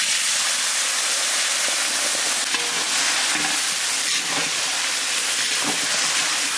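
A hilsa fish head fries in hot mustard oil, giving a loud, steady sizzle and hiss that runs unbroken throughout with no talking.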